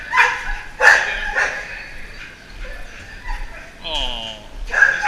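A female shelter dog gives a string of short barks and yips at close range, some sharp, one a rising whine, with a person's voice chatting between them.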